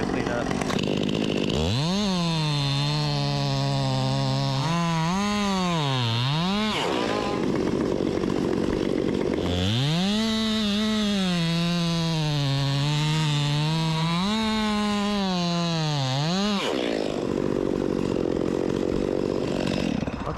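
Chainsaw bucking a bigleaf maple trunk into thin rounds, loud and close, the engine revving up into two long cuts with wavering pitch as the chain bites, dropping to a rough idle between and after.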